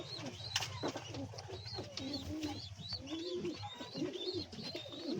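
Many fancy pigeons coo in overlapping, rolling phrases close by, with scattered chirps and wingy rustles in a busy loft; no talk over them.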